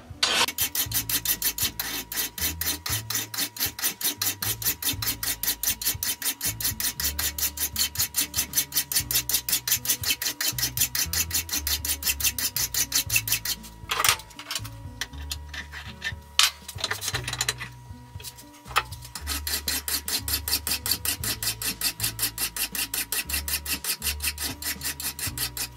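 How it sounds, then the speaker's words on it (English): Draw filing a steel T-nut with a coarse file, a loud rhythmic rasping in rapid, even strokes that runs almost continuously, broken by a few seconds of pause and clatter partway through. "It's called draw filing."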